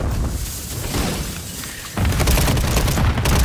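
A detonated charge goes off in Modern Warfare III, a loud close boom that breaks into a thick rumble, with gunfire crackling around it.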